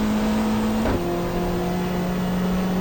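A 1995 Australian Super Touring race car in GTR2 at Mallala holds a steady engine drone, then another car sweeps past close by with a quick pitch-dropping whoosh before the drone settles at a lower tone.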